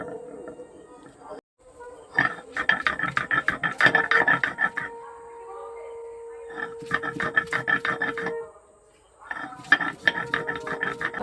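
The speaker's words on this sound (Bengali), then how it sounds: "একে একে সবগুলোকে বেটে নেব প্রথমে পটলটাকে বেটে নেব" Pointed gourd being ground on a wet stone shil-nora slab makes bursts of rhythmic rough scraping strokes, several rounds separated by pauses, with a voice talking in the gaps.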